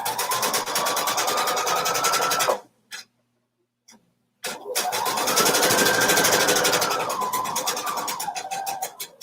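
A sewing machine stitches a seam on a kimono with a steady, fast mechanical whir, pausing briefly in the middle before running again at a rising and then easing speed, loud and close.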